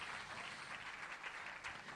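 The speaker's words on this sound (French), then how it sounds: "Allez, applaudissez le Seigneur." A church congregation applauds in worship. Dense, continuous clapping sounds from a crowd, steady and moderately loud, with no voices over it.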